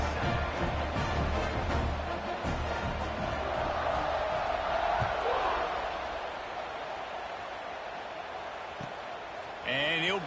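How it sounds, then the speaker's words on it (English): A football stadium crowd keeps up a steady broad roar after a touchdown and extra point in a college game against North Carolina. A commentator talks over it throughout. "this crowd is buzzing after that last score"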